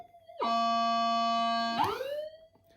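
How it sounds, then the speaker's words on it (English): A metal detector gives a loud, steady, buzzy electronic tone at close range as its gain is turned down. The tone holds for over a second, then bends upward and fades into a softer, whistling tail, with no talk. "Now I'll turn the detector down."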